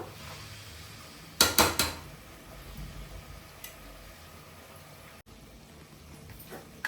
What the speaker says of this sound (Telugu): టమాటా కూడా మంచిగా కలుపుకుందాము